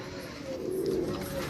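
Kept racing pigeons coo nearby in low, rolling, throaty calls, faint and continuous with a slight swell in the middle.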